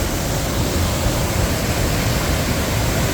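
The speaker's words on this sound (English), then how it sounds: "I love this waterfall" A waterfall at Disney California Adventure theme park pours with a steady, loud, broadband rushing roar, constant throughout with no voices.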